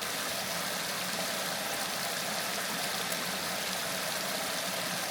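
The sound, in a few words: waterfall at Ludlowville Falls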